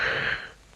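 A cartoon character yawns in a Mr. Men story, one breathy drawn-out exhale that trails off quietly.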